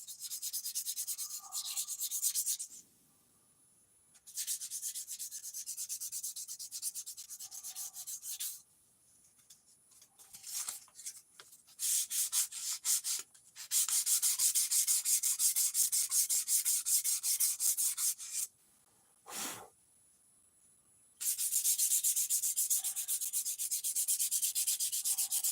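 Sandpaper rubbing on wood for the big glide, a dry hissing scrape in repeated bursts of several seconds with short quiet pauses between strokes, close and steady, with no talking.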